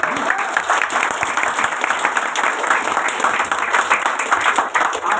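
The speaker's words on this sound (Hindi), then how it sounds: "तो दिल से अपने मोरल के लिए ताली बजा दीजिए।" Meeting audience at a company branch gathering in Kolkata breaks into sustained, dense applause, many hands clapping steadily and loudly for the full stretch with no speech over it.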